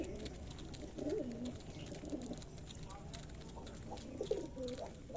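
Pigeons coo in low, rolling murmurs at a pigeon farm, several birds close by, with repeated throaty calls over a steady background hum.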